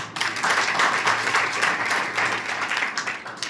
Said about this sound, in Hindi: तो ताली तो अच्छी बजी उनके लिए